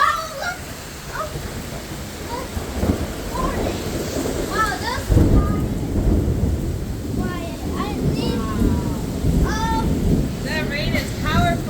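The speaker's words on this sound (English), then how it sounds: "That rain is powerful." Thunderstorm with heavy rain pouring steadily throughout, a broad roar with low rumbling, heard outdoors while people talk over it.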